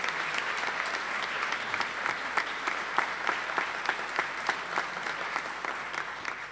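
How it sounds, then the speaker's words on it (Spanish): Warm applause from an audience at a provincial award ceremony honouring local achievers, a steady patter of many hands clapping at moderate distance with no talk over it. "Renovamos el aplauso"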